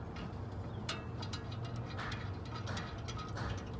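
A ratchet clicks in quick, uneven bursts while brake caliper bolts on a 2006-2009 Dodge Charger are tightened. The clicking sits close over a steady low hum.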